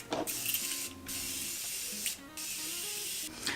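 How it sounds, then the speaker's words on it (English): Close, hissing bursts of a makeup setting spray misting onto a face in three long pumps, one right after another. "I'm just gonna set my face using a Morphe setting spray."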